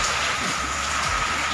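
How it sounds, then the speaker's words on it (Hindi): Heavy rain pours down in a dense, unbroken hiss, steady and loud throughout with no voices. "ज़्यादा बारिश हो रही है"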